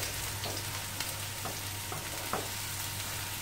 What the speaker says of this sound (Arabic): نحمر ليه في الزيت، ندورو كامل في الزيت باش يتقلى فيها مزيان